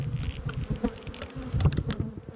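Bees buzz from a heavy beehive being tipped up from the bottom, a close, dense droning hum with brief louder swells as the insects stir.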